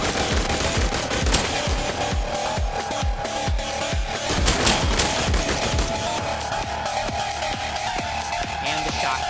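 Rapid automatic assault rifle fire in the video game I Am Your Beast, dense repeated bursts of close, loud shots running continuously throughout.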